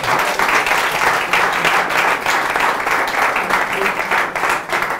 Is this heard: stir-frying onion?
no